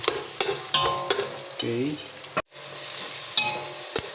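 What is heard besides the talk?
onions, garlic and ginger being stirred in a pan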